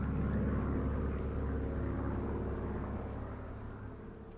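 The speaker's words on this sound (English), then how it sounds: "Hello, aeroplane, bye." Low rumbling drone of an aeroplane passing over a New Forest woodland, loud at first and slowly fading as it moves away, with no talk.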